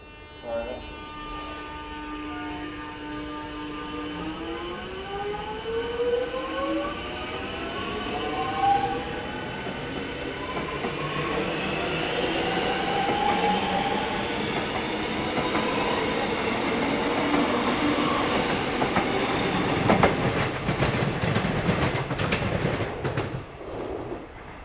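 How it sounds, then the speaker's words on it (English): Regular suburban electric trains at Newport station, Melbourne, pull in with rising electric motor whine and rumbling wheels, growing louder and steady, then clattering as one passes close by. "I did manage to film 2 trains at Newport station, even if they were just the regular suburban ones"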